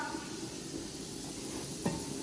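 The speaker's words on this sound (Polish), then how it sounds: "Tu boczuś smażę." Bacon fries in a pan with a steady, close hissing sizzle throughout, and a small clink of the pan near the end.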